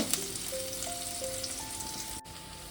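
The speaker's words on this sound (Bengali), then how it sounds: "পেঁয়াজটা ভেজে নেব" Onion sizzles steadily in hot oil in a pan, a dense crackling hiss that holds an even level throughout, with a few faint tonal whines above it and no talking.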